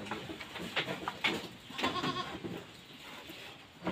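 A goat sick with milk fever bleats during treatment, giving several short, strained, wavering cries at close range over steady background noise.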